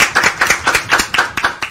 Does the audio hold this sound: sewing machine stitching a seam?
no